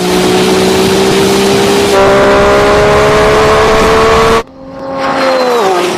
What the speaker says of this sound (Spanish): Viene el Ferrari con esos turbos cargando, bro.